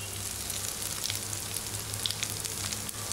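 Crushed ginger, garlic and asafoetida (hing) frying in hot oil in a pan for a mutton dalcha, a steady dense close sizzle with fine crackling, continuous and fairly loud.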